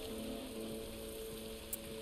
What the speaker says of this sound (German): Der Regen.